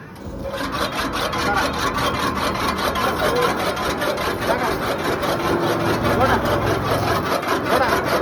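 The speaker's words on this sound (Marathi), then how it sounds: "10 ऊस आपण एक टाइम याच्यामध्ये लागणार आहे या मशीन मध्ये आणि याची कुट्टी करणार आहे" Sugarcane chaff cutter chopping ten sugarcane stalks in one load, a loud, steady, continuous grinding and rasping machine roar with rapid repeated cutting strokes, close by and without speech.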